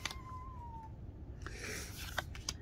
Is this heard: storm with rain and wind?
no